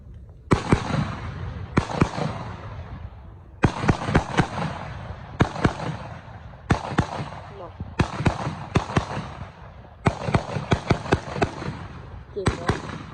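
Loud, sharp gunshots ring out at an army infantry battalion weapons demonstration, firing in irregular bursts of single cracks and rapid clusters outdoors, with people talking in between.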